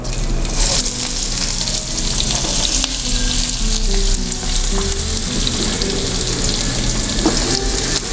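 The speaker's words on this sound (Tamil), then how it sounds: "கடுகு பொரியட்டும் சீரகம் சேர்த்துலாம் இதில் வெங்காயம்" Mustard seeds, cumin and onions for chow chow masala gravy fry in hot oil, giving a loud, dense, continuous sizzle close by with faint stirring underneath and no talking.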